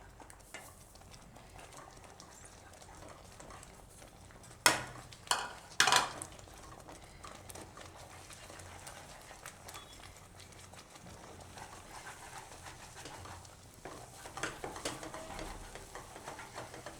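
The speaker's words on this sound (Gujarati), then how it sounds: "તો થોડી થોડી નાખતા જાઉં અને મિક્સ કરતા જાઉં આ રીતે." Semolina poured into boiling water in a pot and stirred, a low bubbling simmer with a few sharp scraping knocks of the spoon against the pot and softer stirring scrapes later on.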